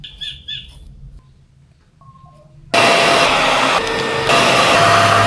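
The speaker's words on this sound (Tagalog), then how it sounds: "Katatapos ko mag-blow dry" A hair dryer switches on abruptly after quiet rustling and a brief tone, blowing loudly and steadily close by, its pitch shifting slightly as it is moved through hair.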